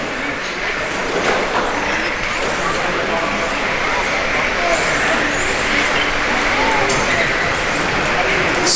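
A racing car passes on a track during a stock car race, its engine a loud continuous roar that dominates throughout while a commentator talks over it.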